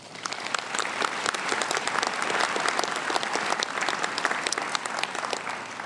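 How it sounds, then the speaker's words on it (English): Graduates applaud themselves at a spring commencement for bachelor of arts and music degrees, a large crowd clapping in a dense, energetic burst that swells slightly and carries on steadily. "Graduates, please give yourselves a round of applause."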